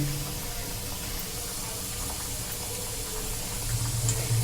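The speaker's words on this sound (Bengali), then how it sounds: "আমি একসঙ্গে 3টে ভাজছি" Three breadcrumb-coated capsicum chops deep-fry together in hot oil, giving a steady, even sizzle and bubbling hiss that holds throughout at moderate loudness, with no voices.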